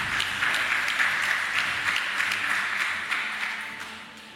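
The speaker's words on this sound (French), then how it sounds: "On l'applaudit." Applause at a graduation thanksgiving Mass for a school promotion rises briefly as a dense patter of hands, then gradually fades over about four seconds, heard from a moderate distance in a reverberant space.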